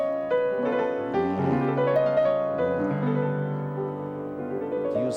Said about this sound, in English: It's the sound of the whole tone scale, a unique invention of Debussy's